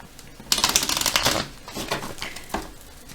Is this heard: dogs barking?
no